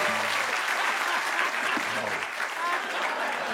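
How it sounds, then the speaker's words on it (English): Studio audience at a late-night comedy show breaks into sustained applause, dense steady clapping and cheering throughout with no gaps. "Really did not expect an applause on that."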